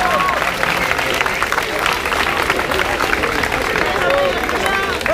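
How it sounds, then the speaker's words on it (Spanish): A crowd at a rap battle applauds and cheers in a continuous, loud wash of clapping and shouting, steady throughout with no pause. "¡Un aplauso fuerte"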